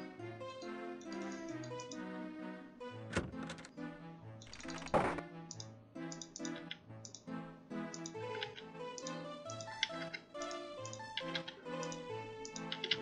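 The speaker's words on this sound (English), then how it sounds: "you're typing in Martian law as I said that" Quick keyboard keystrokes tap away in an irregular stream during a Quest for Glory speedrun, mixed with tonal game sounds and a few louder clicks.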